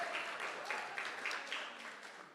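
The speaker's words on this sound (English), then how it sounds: "Keep the applause going." Faint, continuous audience applause at a human rights awards ceremony, a steady wash of many hands clapping heard from a distance.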